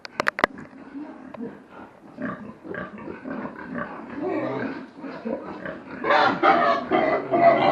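A sow on a farm grunts and snorts nearby, the rough calls building louder toward the end, with someone speaking over them.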